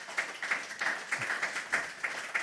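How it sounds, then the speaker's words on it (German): Studio audience at a German talk show applauding after a discussion round, steady dense clapping from a crowd, moderately loud and without voices on top. "Und schon mal einen Riesenapplaus für diese tolle Runde"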